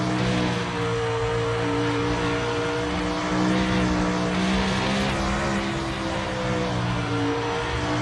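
Winged sprint car engine in the iRacing video game, a loud continuous droning roar with steady tones that rise slightly as the throttle opens, alone without talk.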